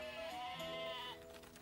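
A cartoon sheep in a French animated children's story gives one wavering, drawn-out bleat lasting about a second, with a fainter tail afterward.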